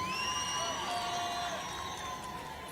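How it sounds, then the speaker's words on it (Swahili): Large outdoor crowd cheering and clapping for the president at a city celebration in Eldoret, a steady dense roar with whistles and high shouts held for the whole stretch. "Tumshangilie kwa makofi."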